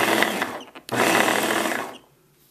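A Beaba Babycook blender pulses Cantonese rice in two short bursts, loud and close, with a brief gap between them before the motor cuts off.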